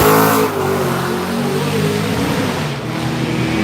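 A drag race car's engine roars loudly during a bye run at a racing event, a sustained strong drone that holds steady after a brief louder opening swell.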